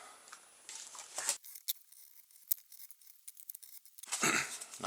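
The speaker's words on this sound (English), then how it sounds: "I'm going to cut it with a knife just to make it easier." A knife slicing through tough cardboard, with scratchy cutting strokes near the start and again at the end, separated by a quiet gap with a few faint ticks.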